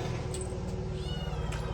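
A cat meows a few times in a rural Gujarati farmhouse setting, the calls faint and brief over a steady low background hum, with no talk.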